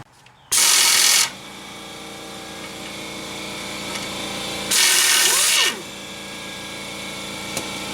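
A power tool on a 2002 Mitsubishi Lancer removes a 17 mm outer tie rod nut in two short, loud bursts of high whirring, with a steady low background hum between them and no speech.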